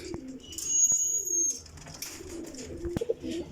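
A golden pigeon from an old bloodline, about one and a half to two years old, coos in low throaty bursts close by, while faint background birds and a thin high whistle come and go.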